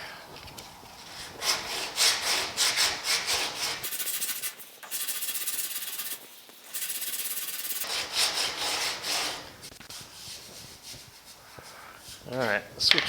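Body filler on a lower cab patch panel of a 1950 Chevy truck is sanded by hand with coarse grit, giving repeated rough rasping strokes in bursts, close and loud, with a voice briefly heard between passes.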